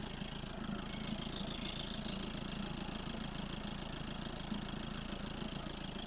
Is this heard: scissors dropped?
no